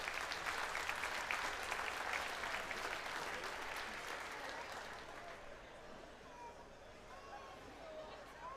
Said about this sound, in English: our champion Rachel Murphy another big round of applause.